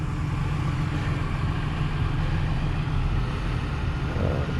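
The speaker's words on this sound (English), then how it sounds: "Vehicle's running, just so that I can show you how it's running." A 2002 Ford E150 cargo van with a contractor cab runs at a steady idle, giving a constant low engine rumble and broadband hum with no voices.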